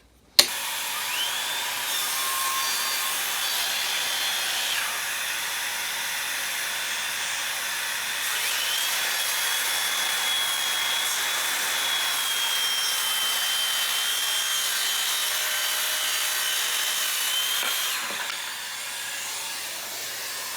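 Makita DHS661 cordless circular saw ripping through 18 mm plywood along a guide rail, a steady, loud, continuous whine held for about seventeen seconds before easing off at the end of the cut.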